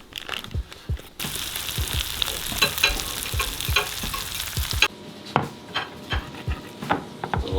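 Butter melting with rosemary in a pan at a north woods cabin, giving a steady close sizzle with scraping and stirring clicks throughout, louder in the middle stretch.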